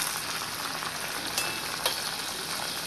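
Onion-coconut masala paste fries in a pan for a Malvani-style crab curry, giving a steady dense sizzle with a few faint clicks from a spoon, no voices.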